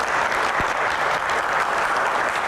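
A studio audience at an Indonesian television Q&A gives a loud, sustained round of applause welcoming a deputy minister, dense and even from start to finish with no speech over it.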